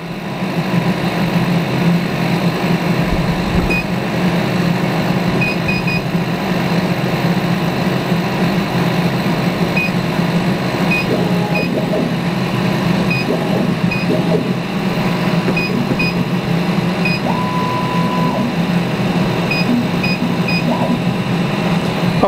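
A 100 W laser engraving machine drives its nozzle head across the bed toward the back corner, giving a steady, continuous motor hum with faint intermittent high whirring and beeps, heard alone throughout without talk.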